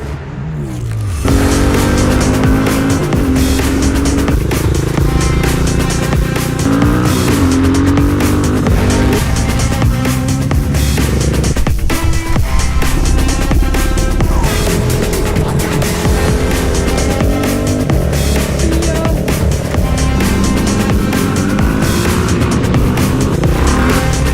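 A Geon Scrambler 250 motorcycle engine runs continuously and loudly for the whole stretch, its pitch rising and falling with acceleration and gear changes as it moves along.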